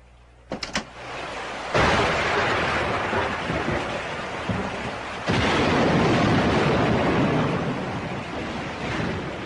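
Storm with heavy rain and rolling thunder, a few sharp cracks early, then a loud sustained roar of downpour and thunder swelling twice, with no voices.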